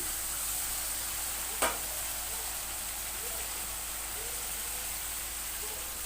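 Vegetables dropped into a fried spice mixture in a pan for a dried-fish curry with potato, drumstick and jackfruit seeds, giving a steady sizzling hiss throughout with one brief clatter near the start.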